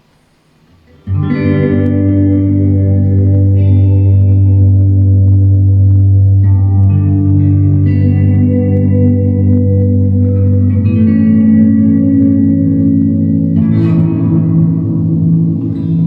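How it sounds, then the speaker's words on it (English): Sustained, heavily reverberant synth tone with a dark, muffled character from a low-pass filtered reverb, swelling in and ringing on with shifting harmonics. "you can get a much darker reverb now"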